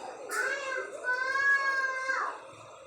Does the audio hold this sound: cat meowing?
yes